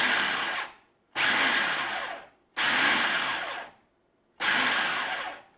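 A food processor pulses basil pesto with Parmesan in four loud whirring bursts of about a second each, separated by short pauses, with no voices.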